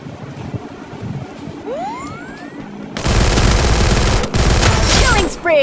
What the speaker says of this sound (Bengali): স্নাইপার না দিয়ে আমি শর্ট রেঞ্জের গান দিয়ে মারতেছি